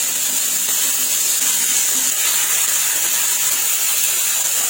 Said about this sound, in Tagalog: At saka na to iprito.